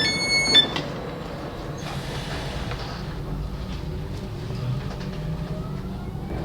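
Regional train RB 58 rolling into a station on a line toward the Rhein-Main high-speed route, a sustained mid-level rumble of wheels and carriages after a brief tonal chime at the start, with no voices.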